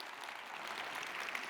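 Brief, fairly faint audience applause after Zanele's presentation at a Sage business roadshow, a steady wash of clapping with no talk over it.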